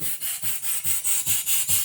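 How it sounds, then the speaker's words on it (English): A Merrow Machine Co. drill bit sharpener, made in Hartford, Connecticut, runs off a 1/2 hp Sipp engine with a steady rhythmic grinding rasp, pulsing about four times a second, close and loud with no talk. "It is a drill bit sharpener, picked up cabin fever, fully operated."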